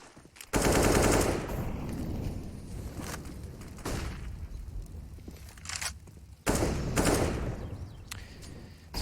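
Automatic gunfire bursts out in a Counter-Strike match on the Inferno map at a pro esports event, two loud rapid volleys separated by quieter shots and footsteps.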